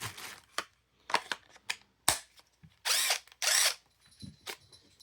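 A Snap-On CT725 14.4-volt cordless impact wrench with a quarter-inch hex quick-change chuck, a factory-rebuilt unit, fires in several short bursts among clicks and handling, then gives two longer, loud hammering runs close by, with no talk.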